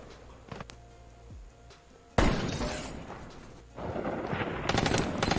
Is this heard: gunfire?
yes